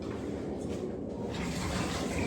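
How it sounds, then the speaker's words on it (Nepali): Water pours steadily in a close, continuous rushing splash that swells slightly toward the end. "अब म चाहिँ यहाँ पानी हालिदिन्छु"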